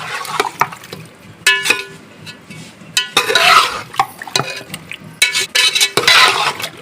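Beef for korma is mixed with whisked yogurt in a pot, giving loud, wet, squelching stirs in irregular bursts with spoon scrapes and brief pauses between strokes.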